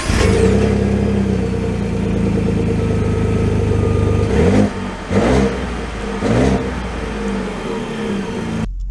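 A 2023 Ford F-150 STX pickup with a 2.7L V6 pulls away, engine note rising and falling loudly and close, with a few revving surges near the end before cutting off.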